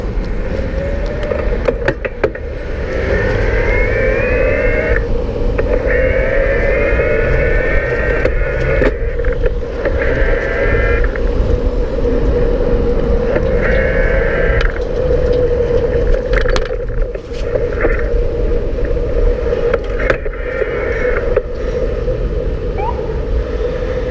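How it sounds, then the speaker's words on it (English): A Moustache Friday 27.5 e-bike in turbo mode riding over rough Brooklyn terrain, with a steady low rumble of tyres and motor, a rising whine from the drive, and occasional knocks from bumps, continuous and close. "Over that bump, and yeah, I hardly noticed the fenders. It's definitely staying quiet on this rough Brooklyn terrain."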